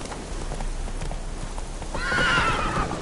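The horse Roach in The Witcher 3 gallops with quick rhythmic hoof clip-clops, close up, then gives a loud whinny near the end; no talking.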